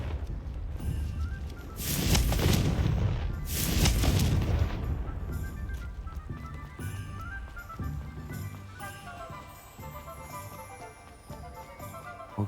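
Confringo blasting spells in Hogwarts Legacy explode as two loud, deep booms close together, then a rumbling tail fades under ambient game sound.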